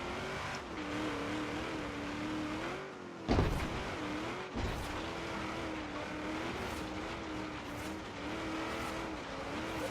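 A Ford De Luxe Coupe climbing a steep uphill course in Forza Horizon 3, its engine droning steadily at high revs with wavering pitch, broken by two sharp thumps from impacts or gear changes partway through.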